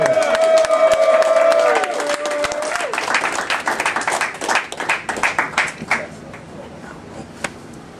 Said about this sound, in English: Clap it up for Mr. Faux Flight 69.